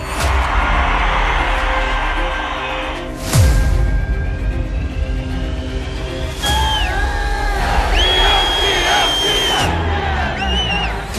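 A huge crowd at a YSRCP Siddham election rally roars and cheers steadily throughout, with a loud surge of shouting partway through and whistles piercing the din near the end.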